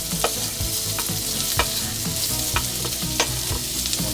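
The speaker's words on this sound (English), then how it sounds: "Gonna add the onions and the peppers." Onions and peppers sizzle loudly in a hot pan with browned garlic, a close, dense frying hiss punctuated by rhythmic scraping and clacking of a spatula tossing them.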